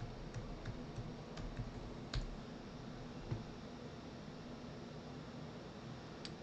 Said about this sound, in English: Type in your PIN.